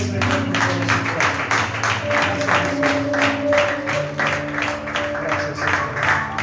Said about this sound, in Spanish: Denle un aplauso al Señor por todos sus